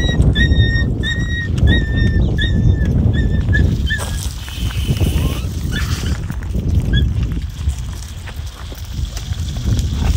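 Several dogs bark in quick repeated bursts, fairly close, over a loud rumbling background, then the barking thins out to occasional yelps.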